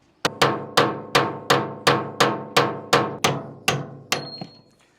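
Ten evenly spaced, loud metallic hammer strikes ring out as epoxy paint is chipped off a boat rudder assembly, each blow followed by a short resonant ring, gradually weakening toward the end.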